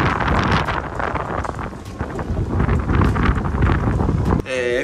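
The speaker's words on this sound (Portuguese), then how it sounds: "Vou mostrar pra vocês como é que tá ventando." Strong wind buffeting the microphone on a beach, a loud continuous roar with gusts rising and falling, while a person speaks faintly underneath.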